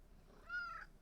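A kitten gives a single clear meow, close and fairly quiet, a short tonal cry rising and then falling over about half a second against a quiet room.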